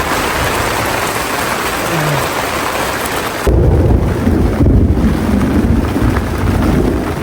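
Thunder breaks over an outdoor stormy scene in Tsalka, a deep rolling rumble swelling halfway through amid steady rain and wind buffeting the microphone.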